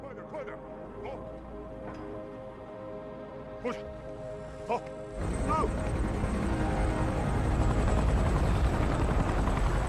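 A helicopter's steady rotor whine and engine drone, growing noticeably louder and fuller halfway through as it comes closer, with a few faint thumps early on.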